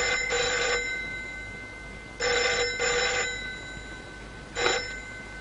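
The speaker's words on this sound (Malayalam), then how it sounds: "ഫോൺ ചെയ്യേ." An old-style telephone bell rings indoors at a harbour police station, three separate trilling bursts with short pauses between them, clear and alone with no talk.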